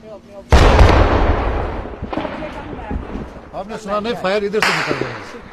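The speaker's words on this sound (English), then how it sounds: "You can hear the fierce exchange of gunfire going on there." Loud bursts of gunfire crack and echo during a security operation on a city's outskirts in Kashmir, starting with a heavy blast then scattered volleys, with voices shouting and talking over the shooting.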